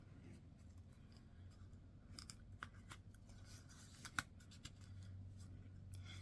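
Micro-tip scissors snip small tabs into folded book pages: a quiet run of faint, crisp cuts and clicks, with one sharper snip standing out, against a soft low background hum.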